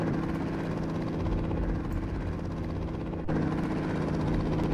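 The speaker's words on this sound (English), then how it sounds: "This is an oddly loud chopper noise." Helicopter chopper noise in a video game, a loud, steady rotor drone running throughout with a brief dip in level near the end, no talking.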